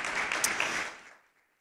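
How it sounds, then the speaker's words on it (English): Audience applause for a presenting sponsor at a regional civic forum, a brief burst of clapping that quickly fades to silence within about a second and a half. "Please give a round of applause to Accenture."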